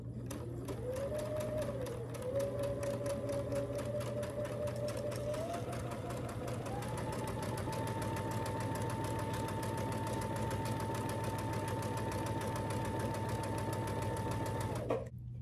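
A sewing machine stitches quarter-inch seams on churn dash quilt block pieces, its motor whirring steadily with a rising whine that shifts pitch partway through, then stops abruptly at the end.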